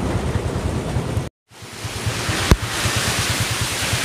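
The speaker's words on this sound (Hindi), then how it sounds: "बारिश शुरू हो गई है" Rain pours during a solo motorcycle ride between Delhi and Dehradun, a loud continuous rush of rain and wind over a low rhythmic engine throb, briefly cutting out and including one sharp crackle.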